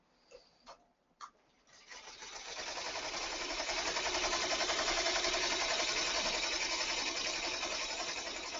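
A sewing machine stitching with metallic thread starts after a few soft clicks, then runs in a steady, fast whirring hum close by for several seconds without talk.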